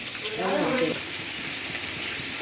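Ginger-garlic paste sizzles in hot oil with onions and chilies fried red, for a Bengali yardlong bean dish; a steady broadband sizzle runs throughout, with a short voice-like sound near the start.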